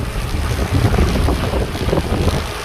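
A boat moves across open water far out in the Gulf of Mexico, with a constant churning rush of wind and water buffeting the microphone, loud and unbroken throughout.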